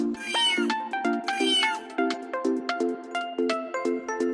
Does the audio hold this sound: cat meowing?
yes